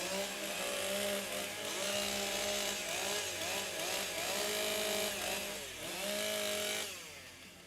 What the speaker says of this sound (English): They'll restart the event, restart their saws.